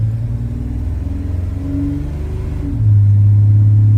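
Chevrolet C1500 pickup with a swapped LS engine idling with a deep steady rumble, then revving up sharply near the end to a louder, sustained higher drone, close by outdoors in snow.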